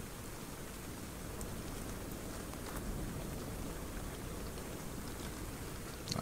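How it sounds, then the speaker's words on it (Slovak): Rain falls steadily in the video game Ark: Survival Evolved, a dense, even hiss of drops continuing without pause at moderate loudness. "Teraz prší."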